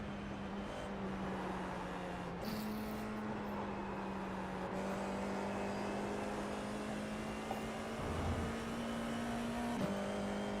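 An F4 single-seater race car engine in a sim racing game at Silverstone holds a steady high-pitched drone, with brief gear-change blips and a short dip in pitch as it goes through the corners.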